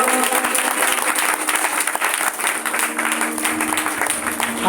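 Sustained applause from a church congregation at a Sunday meeting, steady and dense clapping filling the space without a break.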